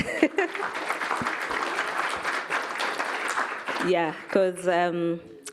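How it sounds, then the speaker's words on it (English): Audience applause at a TVET awards forum, a dense crowd clapping steadily for several seconds before fading as a voice begins speaking near the end. "I would want us to have another round of applause to this initiative"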